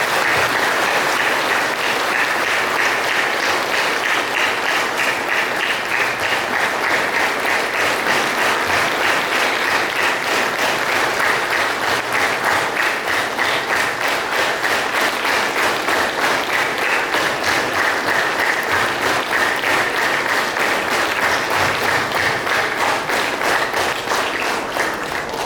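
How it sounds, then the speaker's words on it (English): A church congregation at a healing service claps steadily in welcome for a preacher, a dense, even wash of applause that holds at the same loud level without a break. "let us clap our hands"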